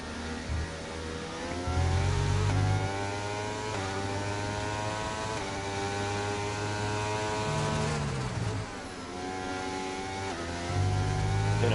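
Onboard engine of a scarlet red Ferrari-livery race car in an Abu Dhabi racing video game, a loud steady high-pitched drone with repeated rising gear sweeps and shift dips, heard alone throughout.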